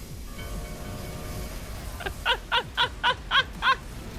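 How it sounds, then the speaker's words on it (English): Doom Train summon animation in Final Fantasy XIV: Dawntrail, a low mechanical rumble and drawn-out tones followed by six evenly spaced sharp cries or screeches, loud and rhythmic, with no talk. "Oh, it's the Doom Train summon animation."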